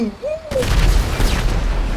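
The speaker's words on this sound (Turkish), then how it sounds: "İşte uçak patladı." A sudden loud blast as an aircraft explodes in GTA 5 breaks in, followed by a sustained roar of gunfire and rumbling explosions from a military battle.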